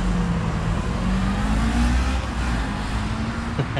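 A Kawasaki motorcycle engine runs loud and close, with a dense continuous roar and a slowly rising then settling pitch as it revs, with no voices over it.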